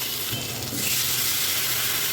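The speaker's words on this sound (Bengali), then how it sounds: "আলু একটু ভাজার পরে টমেটো অ্যাড করছি" Potatoes fry in oil in a pan with a soft, even sizzling hiss that holds steady for a couple of seconds without any talk.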